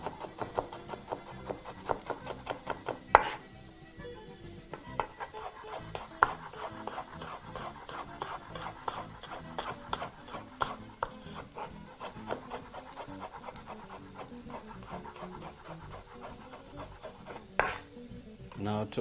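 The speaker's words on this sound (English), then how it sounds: "Also proceeding to chop very finely." Knife rapidly chopping red onion very finely on a board in a home kitchen, a dense run of quick, even taps with a few louder knocks, close and steady, with no talk.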